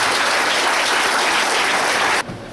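Loud, dense applause from an audience welcoming poet Narendra Mishra onto the stage, a thick roar of clapping that cuts off sharply near the end.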